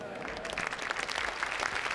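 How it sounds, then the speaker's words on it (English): Scattered applause and light crowd noise for a guest on a live stream, moderately loud and dense for about two seconds. "Let's give it up for Goddess Trends"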